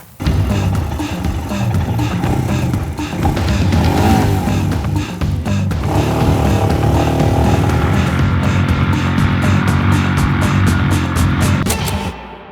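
A Royal Enfield Scram 411 motorcycle rides through sand dunes, its engine droning loud and steady throughout, rising and shifting in pitch before cutting off near the end.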